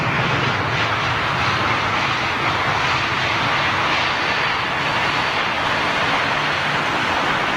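A loud, steady roar of airplane engines fills the whole stretch, a constant broadband rumble with no voices.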